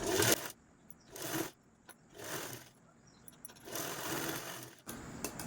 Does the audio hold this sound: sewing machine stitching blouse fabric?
yes